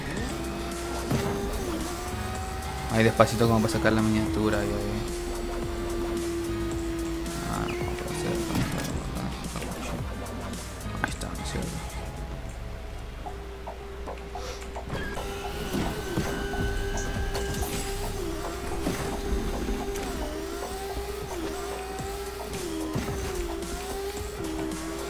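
A motorbike engine in the video game Fortnite hums steadily with shifting pitch and a few revs, joined partway by other game effects, while someone talks over it in Spanish.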